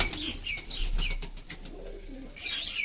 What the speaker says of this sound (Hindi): भैया के हाथ में बहुत ही खूबसूरत कबूतर है।